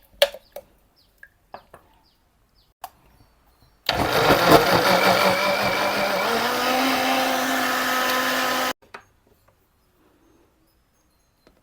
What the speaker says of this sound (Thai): นมข้นหวาน 1 ช้อน แล้วนำไปปั่นเลยค่ะ